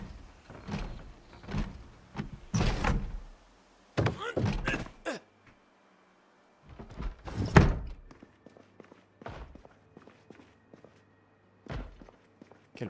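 Door and interaction sounds in the video game Project Zomboid: a series of short thunks, clunks and sliding bangs at irregular intervals, fairly close, with quiet gaps between them and no voices.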